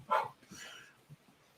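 A single quiet bark, followed by a faint whine and a small yip, fairly distant with no other sound around it.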